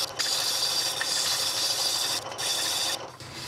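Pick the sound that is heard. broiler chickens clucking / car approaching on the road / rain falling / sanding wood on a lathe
sanding wood on a lathe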